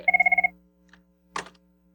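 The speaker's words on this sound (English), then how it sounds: "And so, sorry about the phone." Telephone bell rings in a quick burst of rapid trills, then a short clatter follows in an otherwise quiet room during a conference talk.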